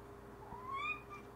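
A house cat gives a single rising meow, faint and fairly close, during a quiet yoga session.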